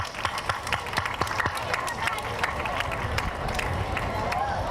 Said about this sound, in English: Let's give a round of applause to SHAME students.